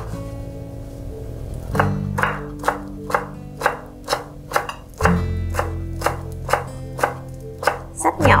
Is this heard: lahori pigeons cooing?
no